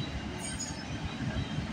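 A freight train rolls past at night with a steady rumble of wheels and cars, carrying faint high squeals from the rails, close and continuous throughout.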